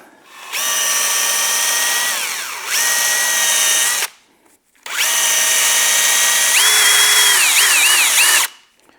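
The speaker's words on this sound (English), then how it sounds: "So to clean up the pump shaft itself, I just chucked it in my drill." A bottle jack pump shaft spins in a power drill while being polished with oiled Scotch-Brite, a loud, close, whining drill run in two long bursts with a short pause between and the pitch shifting as the load changes.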